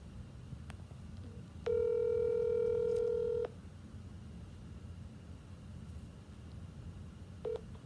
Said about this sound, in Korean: 그래서 지금 바로 또 올리비아 해시에게 전화를 해보겠습니다.